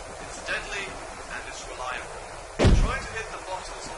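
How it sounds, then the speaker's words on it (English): A single loud pistol shot rings out at bottles on concrete in the video game Underhell, a sharp burst standing alone after faint talk-like sounds. "firing from the hip is not an easy business, especially with a sidearm"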